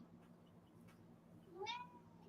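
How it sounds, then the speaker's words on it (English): One short, rising meow from a cat near the end, standing out over a faint low hum. "it's the sound of an annoying cat"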